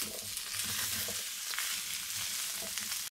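Vegetables and meat fry in a pan over high heat, a loud, continuous sizzle with faint stirring sounds, and no voices.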